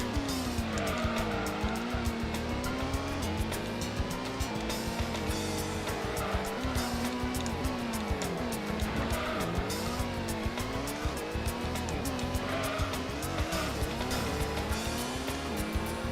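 Race car engines in Gran Turismo 1 whine steadily, rising and falling through gear changes, with tires squealing repeatedly through corners at a constant loud level.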